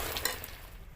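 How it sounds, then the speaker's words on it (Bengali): Ghee hisses as it is added to shukto cooking in a pan and stirred, giving a brief close burst of sizzle with a soft scrape. No voices. "ঘি দিয়ে দিচ্ছি, এবার নামিয়ে নিচ্ছি।"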